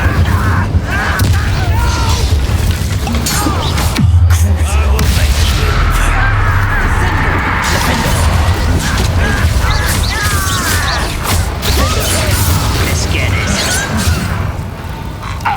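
Incendio fire spell cast in Hogwarts Legacy, heard as loud whooshing blasts and booming crashes over a dense, continuous wash of battle effects and score, with a sharp impact near the start.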